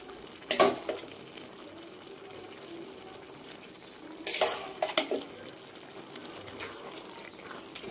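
Boiled gongura leaves going into a pan of egg curry, a soft steady sizzle with a few sharp scraping stirs of a spoon against the pan, fairly quiet and close.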